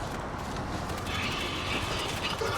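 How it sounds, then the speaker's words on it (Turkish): Zombies attack a train in the World War Z video game, producing a dense, continuous, loud rumbling and clattering roar of rail noise and a churning horde, with faint higher tones drifting above it. "Treni, treni parçalıyorlar."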